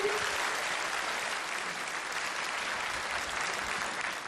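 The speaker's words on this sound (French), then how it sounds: "On l'applaudit." Steady, dense applause from a large audience honoring the Chinese ambassador to France at a 2019 Global Kung Fu Spring Festival Gala, a continuous, even wash heard at moderate distance without speech.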